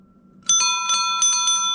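A bicycle bell rings several times in quick bright bursts, close and loud, with a faint low hum underneath.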